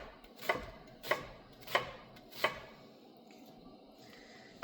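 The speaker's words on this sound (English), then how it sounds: "So chop that up." A knife chops filling for lamb ravioli on a board in four evenly spaced, crisp, quiet strokes, followed by a short pause.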